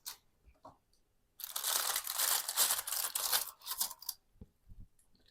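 Crisp, close crunching of an oven-toasted onion sandwich, a loud burst of crackling bites and crumbling crust lasting a couple of seconds, framed by quieter handling sounds before and after.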